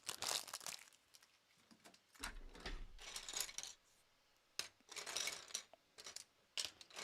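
LEGO Technic plastic parts bags being handled before going into the trash give off bursts of close crinkling and rustling, separated by short pauses and ending in quick crackles.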